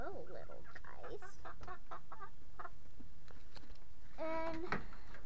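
Pet backyard hens clucking close by in short bursts, with a louder run of calls near the end, over steady outdoor background noise.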